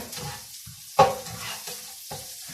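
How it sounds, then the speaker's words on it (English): Two medium onions sizzle as they finish frying in a pan, a steady crackle punctuated by a sharp scrape or stir near the one-second mark and a few softer stirring sounds. "So I've got 2 medium onions, and they've almost cooked here."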